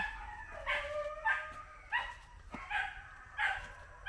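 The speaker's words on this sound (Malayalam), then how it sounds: "അവരങ്ങോട്ട് പോയേനാന്ന് കിടന്ന് കുരയ്ക്കുന്നേ" A dog barks repeatedly in short bursts, about six barks with brief pauses between them, fairly close, with no talking.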